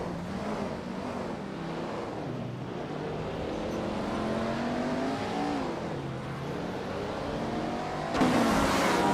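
Engine of a 1965 Ferrari 1512 racing car, a sustained high revving whine that rises and falls as gears change, loud and close the whole time, with a sharp brighter burst near the end.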